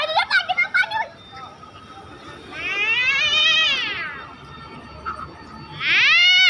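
A cat meows twice amid children playing at home, long rising-and-falling wails that stand out loud over a busy background of kids' chatter and noise, the second cry cut off at the end.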